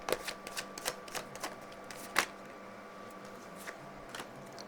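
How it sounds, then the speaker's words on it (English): Tarot cards laid one by one onto a board, a quiet series of soft slaps and flicks at an uneven pace, close and alone. "Let me get the cards on the board first."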